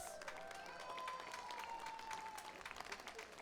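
A crowd at a Fourth of July parade applauds steadily, the clapping somewhat distant and faint, with a few cheers mixed in.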